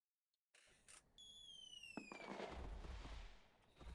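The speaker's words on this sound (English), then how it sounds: "drop the firework here." A firework in the video game Creatures of Sonaria whistles upward, then bursts with a boom and a crackling rumble that lingers.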